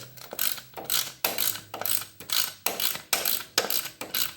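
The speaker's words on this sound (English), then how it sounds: "Now we'll take the valve cover off. It's just held on with these two nuts." A ratchet wrench clicks through a series of about nine quick, evenly spaced strokes while loosening the valve cover nuts on a Ferguson TEA20 tractor engine, close and crisp with no voices.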